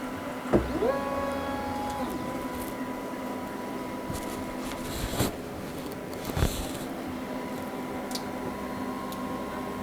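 An ACMER P1 S Pro laser engraver cutting a square at low speed and high power, with steady mechanical whirring, tonal motor whines rising and falling as the head moves, and a couple of brief clicks over a constant fan hum.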